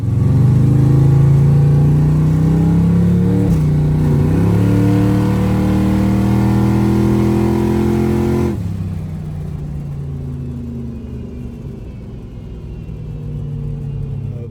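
A turbocharged car on a street revs up hard in a sustained pull with rising pitch, loud and close, then cuts back to a lower rumble as it eases off.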